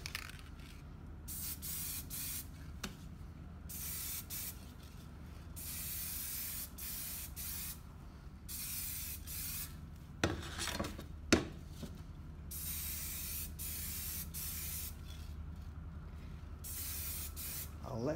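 Aerosol paint spraying a fresh coat onto a Lancia Delta window part, long steady hissing bursts with brief pauses between passes and a couple of sharp clicks near the middle, close and moderately loud with no talking.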